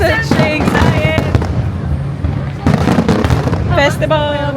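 Fireworks at the Sheikh Zayed Festival in Al Wathba, Abu Dhabi, burst in a rapid run of loud cracks and pops, with people talking and calling out among the crowd throughout.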